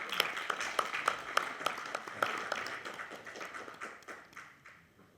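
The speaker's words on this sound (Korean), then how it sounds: "자, 박수로 모시겠습니다." A modest ceremony crowd marking the 104th anniversary of the Korean Declaration of Independence gives distinct, fairly quiet hand claps to welcome a speaker. The scattered claps ring crisply at first and gradually thin and fade.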